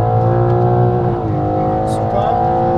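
A BMW M4 accelerates at full throttle on the Nordschleife, its loud engine droning as a strong rising tone, briefly dipping at a gear change and then climbing again, heard close from inside the car.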